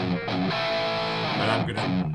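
Electric guitar played dry through an IK Multimedia Tonex amp plugin with the reverb removed, giving a distorted, sustained tone that rings and shifts over a couple of seconds without voices.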